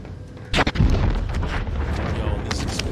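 Heavy booming blasts from Warzone, one big burst early followed by a steady rumble and scattered later booms, fairly loud throughout.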